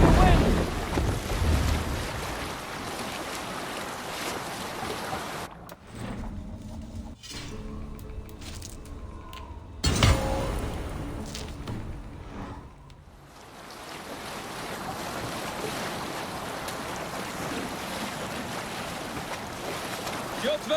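A sailing ship rides ocean waves in the video game Assassin's Creed Valhalla, with steady rushing surf and wind filling the scene, briefly dipping to quieter ambience midway before the broad wash of water returns.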